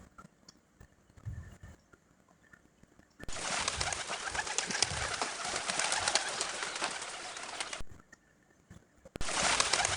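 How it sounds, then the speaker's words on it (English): A pigeon coos in low, soft, rounded calls. A burst of loud broadband noise briefly covers part of it. "pigeon,"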